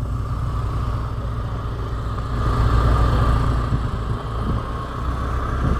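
A motorcycle engine idles steadily near a car wash in Famy, Laguna, a continuous low mid-pitched hum that swells slightly midway and holds close and even throughout, with no speech over it.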